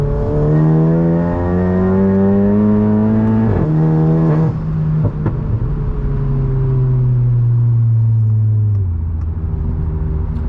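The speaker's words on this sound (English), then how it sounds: "That was 25 pounds of boost right there, and no cutouts or anything, bringing it all the way up the red line." A big-turbo VW MK7 GTI running 25 psi of boost accelerates hard to redline, its engine note climbing through rising pitch sweeps with a brief shift break, loud and close from inside the car.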